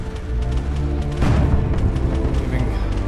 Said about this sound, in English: Looks like we got Nova cannon impacts.